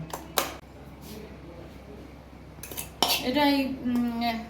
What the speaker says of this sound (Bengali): চিনিটা ডিম দিয়ে বাটার দিয়েছি আর সাদা তেলও দিয়েছি, দিয়ে ফাটাচ্ছি